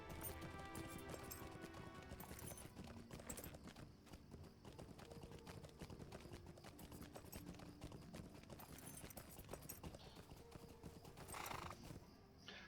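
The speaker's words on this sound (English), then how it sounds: "I'm glad that horse is there." Rhythmic horse hooves clip-clop steadily throughout a Lord of the Rings Online game scene, joined by a whinny, heard faintly under layered game ambience and music.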